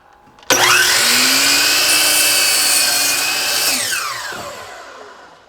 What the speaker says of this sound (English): Once we have the saw set to 54 degrees, I'm going to go ahead and cut the end off of this board.